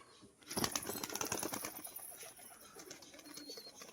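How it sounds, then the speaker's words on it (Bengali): A female Rajshahi pigeon flaps and stirs close by, a short flurry of wing beats and soft rustling, with faint background noise and no speech. "এটা মাদি পায়রা"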